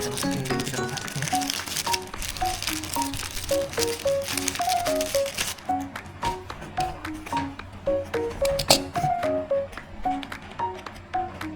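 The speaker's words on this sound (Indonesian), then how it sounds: "kita masukin dulu ke dalam plastiknya" Plastic bag crinkling up close as a warranty card and items from a DJI Mic Mini wireless microphone box are slipped inside, irregular crackles and rustles with faint tonal pings, busier at first then sparser.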